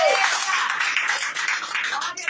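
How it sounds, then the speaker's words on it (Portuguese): Church congregation at a Pentecostal prayer house clapping hands together in joyful rhythm, a dense, steady patter of many hands filling the room, with a voice briefly audible at the start. "E receba a serva do Senhor com as palmas alegres para Jesus"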